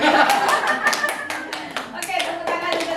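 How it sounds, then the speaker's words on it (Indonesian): A group of adults and children clap their hands together in a classroom or training session, quick overlapping claps in an uneven rhythm, close and loud, with voices mixed in. "tepuk tangan untuk kita semua"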